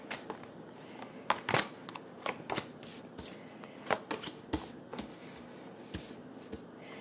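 Tarot cards are shuffled and drawn in a quiet room, with crisp riffles and irregular slaps and flicks of the cards. The sound is close and fairly soft, and no one speaks.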